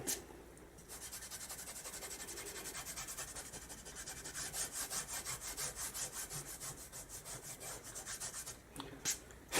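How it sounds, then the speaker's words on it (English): An eraser is rubbed back and forth on a leather strop to clean it, making a quiet, close, rhythmic scrubbing rasp with steady strokes that grow more pronounced partway through, with no talking. "the strop will last a lot longer if you just use an eraser to clean it"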